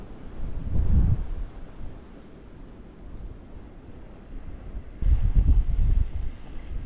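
Wind gusting across a lakeshore during float fishing, a low rumbling buffet against the microphone that swells loudly twice and stays as a softer steady roar between gusts, no talking.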